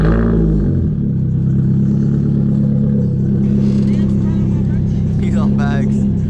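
Tuned car with quad exhaust pipes idles with a deep, loud, rumbling drone at close range, with small rises in revs; people talk over it throughout.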